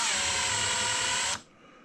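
Power screwdriver or drill driving standoff mounts into pilot holes for a fly testing tank, a steady close whirring run that cuts off abruptly after about a second and a half.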